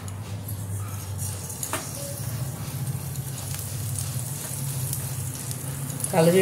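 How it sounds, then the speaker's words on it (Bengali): Nigella seeds tempering in hot oil for a Bengali prawn dhoka curry, a steady close hiss of sizzling with faint crackles throughout and a louder sizzling burst near the end. "তেলটা আমার গরম হয়ে গেছে। এবার আমি এর মধ্যে ফোড়নটা দেবো। প্রথমে দেবো কালো জিরেটা"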